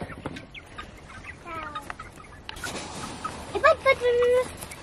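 Chickens kept in a city backyard give short clucks and squawks at close range, scattered across the clip and louder near the end, with people talking in the background.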